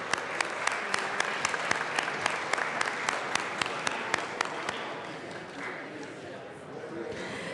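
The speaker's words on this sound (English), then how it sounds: "can we all give them a round of applause?" Clapping in a steady, even rhythm for several seconds in the Colorado House of Representatives chamber, then it fades into a quieter room murmur.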